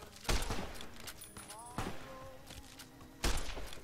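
Gunfire in a Fallout: New Vegas shootout cracks out in three loud separate bursts amid a busy background of game noise, with a voice faintly present.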